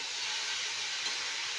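Potatoes frying in a pan make a steady, soft, even sizzle close up, with no talk over it.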